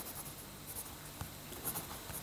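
Marker or chalk drawing on a board during a physics lesson on Newton's laws, a soft, steady scratching and rubbing with a few faint taps, heard alone and fairly quiet.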